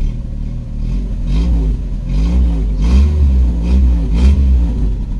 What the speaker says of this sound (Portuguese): Olha o barulho dessa marcha lenta